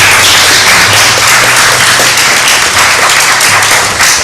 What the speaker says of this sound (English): And let's give them a big round of applause